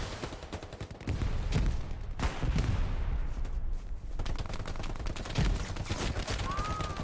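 Machine gun fire in the World War II shooter Hell Let Loose: sustained, rapid automatic bursts ring out close and loud, broken by short pauses and scattered single heavier shots, with no talking.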